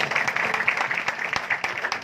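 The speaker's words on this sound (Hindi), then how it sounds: "जोरदार तालियां बजाइए" An audience claps briskly at a devotional Shyam Baba kirtan held in a home. The applause is a dense crackle of many hands, fairly close and loud, lasting a couple of seconds with no talk over it.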